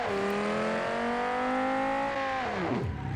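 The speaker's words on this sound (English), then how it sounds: "I've got one of the loudest cars I have" A loud car revs hard in BeamNG.drive, its engine note holding high and steady, then dropping sharply as the revs fall away near the end, with no voices.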